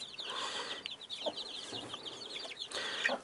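A mother hen clucks softly and repeatedly while pecking at watermelon, short muttering calls near at hand over a quiet farmyard background with faint chirps from chicks.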